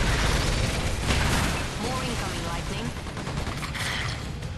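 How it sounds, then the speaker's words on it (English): Turret and rocket gunfire in the Earth Defense Force: Insect Armageddon video game, a dense continuous barrage with rumbling blasts, a player talking over it. "now I'm going to use this turret to kill this Hector"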